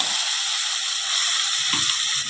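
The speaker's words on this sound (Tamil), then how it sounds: "இதையும் சேர்த்து நல்லா மசிய வதக்கிக்கலாம்" Chopped tomatoes sizzle in a hot pan with sautéed ginger, garlic and onion, giving a steady bright frying hiss that continues throughout, with a soft stirring scrape near the end.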